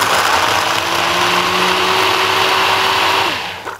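A kitchen grinder whirs steadily as it blends soaked dates, a loud continuous motor drone with a faint tonal whine that holds for several seconds and then begins to wind down.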